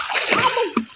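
Water splashes in a clear-water river as someone swims near the bank: a short burst of bright sloshing and splatter, close by, with a faint voice in the background.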